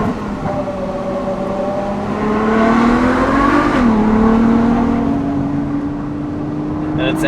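A Ferrari FF's naturally aspirated V12 pulls hard on a mountain pass beside stone walls, a loud, close wail that rises steadily, dips briefly at a gear change, then holds a high sustained howl.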